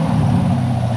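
A 2016-2021 Camaro 2SS V8 fitted with a Roto-fab cold air intake, giving a loud, steady, deep engine roar close by with no breaks and no talk.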